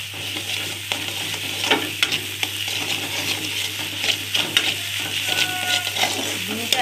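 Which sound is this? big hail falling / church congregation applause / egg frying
egg frying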